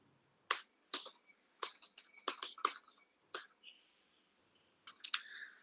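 Someone types a message on a computer keyboard in a quiet room, producing several short bursts of close, crisp key clicks separated by pauses.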